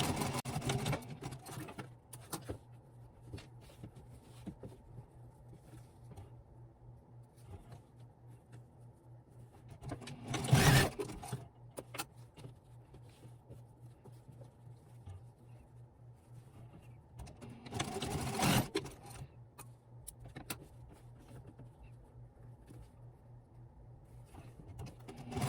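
A sewing machine stitches along the edges of cloth napkins with a steady whirring hum, broken by two louder mechanical bursts as the fabric is turned or repositioned.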